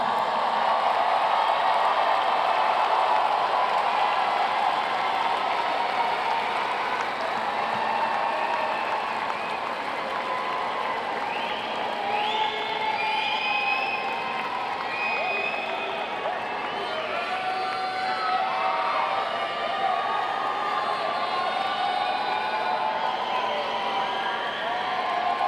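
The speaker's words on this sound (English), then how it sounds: "salute them with your applause" A graduation audience at a Florida State University spring commencement ceremony applauds and cheers steadily, a broad sustained wash of clapping and scattered whoops from a large crowd filling the hall without pause.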